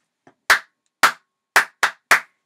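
Hands clapping a rhythm, five crisp close claps with uneven spacing after a faint tap, set against silence.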